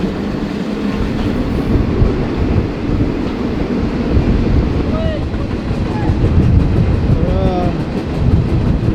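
Freight train in Mexico rolling along, a loud steady rumble of wagons with rattling and rail clatter heard up close from on board, with faint squeals and no clear talk.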